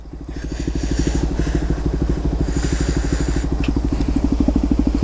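A loud modified motorcycle engine with an aftermarket silencer revs and idles close by with a deep, rapid throbbing exhaust pulse, steady and rough throughout.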